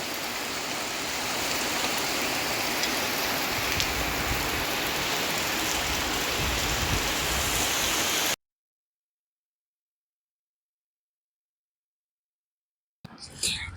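A dense, steady roar of heavy rain pours continuously for several seconds, then cuts to silence before a brief burst of sound returns.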